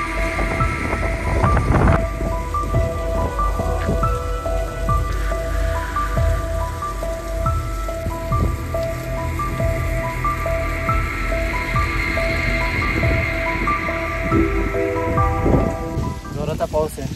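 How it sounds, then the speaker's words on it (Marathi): Heavy rain and strong wind lash the steep stone steps of the Bhairavgad fort trek near Shirpunje, a loud, steady wash of downpour and gusts that runs unbroken throughout. "जोराचा पाऊस आहे"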